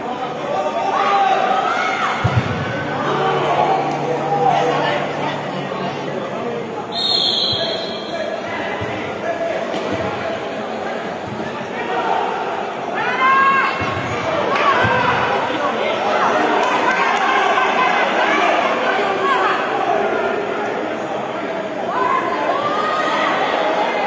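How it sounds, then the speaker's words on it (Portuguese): Spectators jeering and heckling at an indoor futsal match in a Mato Grosso do Sul league game, a steady murmur of crowd noise with scattered shouts, ball bounces and squeaking shoes, under continuous commentary. "A torcida começa a cornetar aqui"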